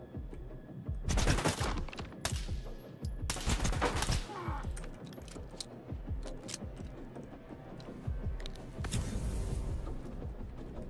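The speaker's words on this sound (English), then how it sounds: "Someone's shooting at me." Enemy gunfire in S.T.A.L.K.E.R. 2 rattles in loud bursts of rapid automatic shots, with several dense volleys over a steady noisy battle backdrop.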